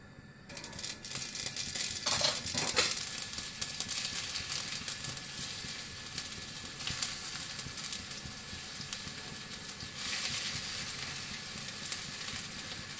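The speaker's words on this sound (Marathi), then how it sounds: "आता आपण तळून घ्यायच्या आहे त्या." Crispy coriander vadi pieces frying in a large pan, a continuous close crackling sizzle that swells early and stays dense, with occasional scraping and clinking of a utensil, no talking.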